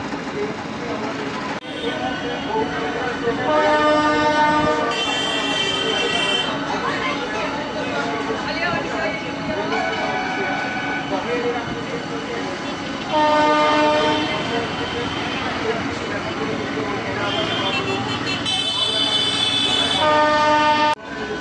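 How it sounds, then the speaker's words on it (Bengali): Inaugural passenger train pulling out of Amghata station bound for Krishnanagar, with a steady rumble of the running train and several loud horn blasts sounding at intervals, crowd noise and voices mixed in. "ট্রেন এখন আমঘাটা স্টেশন ছাড়লো, কৃষ্ণনগর উদ্দেশ্যে যাত্রা শুরু করলো।"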